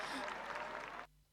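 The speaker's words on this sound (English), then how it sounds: "she's clapping for everyone." Applause from an audience at the Miss Universe Philippines 2022 pageant after a vocal performance, a dense steady clapping that cuts off abruptly about a second in, leaving near silence.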